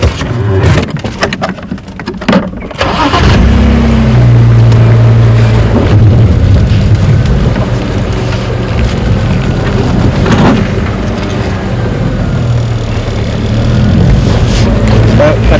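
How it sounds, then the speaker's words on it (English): An open safari game drive vehicle on a game reserve starts up and moves off, with a loud, steady engine rumble and rattling, preceded by a few clunks and knocks. "I just want to move the vehicle."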